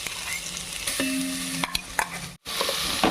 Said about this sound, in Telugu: పచ్చివాసన పోయేదాకా మనం తిప్పుకోవాలి